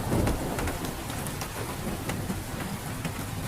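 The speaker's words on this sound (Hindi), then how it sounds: "आज तो जंगल में सुबह से ही काफी तेज बारिशें हो रही थी।" Heavy rain pours down steadily in a cartoon jungle, a dense close hiss of drops with faint patters, no voices.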